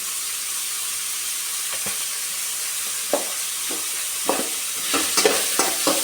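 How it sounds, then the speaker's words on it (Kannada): Capsicum frying in a pan for white sauce pasta, a steady loud sizzle with sporadic scraping stir strokes that grow busier toward the end. "ಇದೊಂಚೂರು ಫ್ರೈ ಆಗಲಿ."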